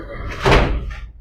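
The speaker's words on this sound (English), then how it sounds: "This is the fire door, which is really cool." A heavy fire door in an old early-1900s warehouse swings shut with one loud, booming slam that rings out briefly in the large space.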